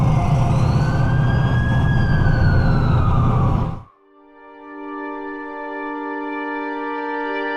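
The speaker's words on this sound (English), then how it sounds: "That's the ambulance I called." In The Amazing Spider-Man 2 game, a loud wailing ambulance siren sweeps up and down for several seconds, then cuts off abruptly and gives way to a sustained tonal hum.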